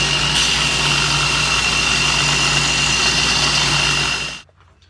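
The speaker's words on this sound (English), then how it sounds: "next thing we got to do is just finish grind this thing, take it up the grits, get it polished" A forged Bowie knife blade, made from a spike and rasp, finish-ground on a belt grinder: a loud, steady, abrasive whir held for over four seconds before cutting off abruptly into near silence.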